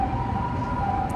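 A steady, sustained ambulance siren tone sounds on a street in Osaka, Japan, held over dense city traffic noise.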